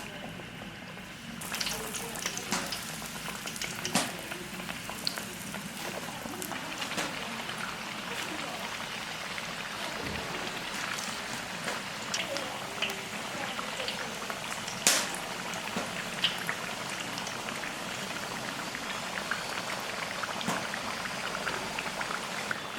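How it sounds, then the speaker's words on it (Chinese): Sweet potato cakes deep-frying in hot oil give off a quiet, steady bubbling sizzle with scattered crackles and a few faint clinks. "油6成热，下入红薯糕炸"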